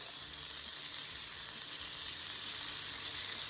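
Steady, loud sizzling of jerk chicken wings searing in a hot pan over turned-up heat, a continuous crackling hiss with no voices.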